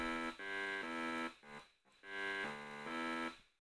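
A buzzy, harmonically rich synth tone from a Massive patch plays a few sustained notes in short phrases, cutting off briefly between them, fairly quiet overall.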